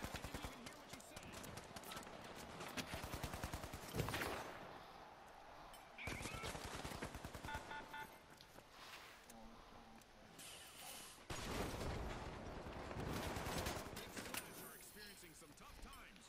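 Rapid automatic gunfire rattles in The Finals, coming in several sharp bursts and rattling strings with pauses between them, fairly close and loud over busy game ambience.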